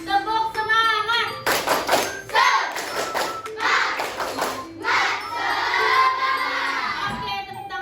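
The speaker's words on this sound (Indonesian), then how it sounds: "Kurang semangat sekali lagi. Tepuk semangat." A classroom of children doing a rhythmic spirit clap, with sharp group claps and thumps mixed with loud shouting and cheering voices, nearby and energetic throughout.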